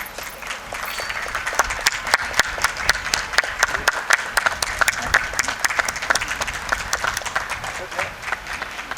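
Enthusiastic audience applause at a book launch, dense and steady clapping filling the room for several seconds with a crowd murmur beneath it.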